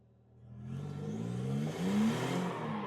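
A car engine revs hard during drifting practice, rising from a low idle into a loud sustained growl with climbing pitch, close and continuous for about three seconds.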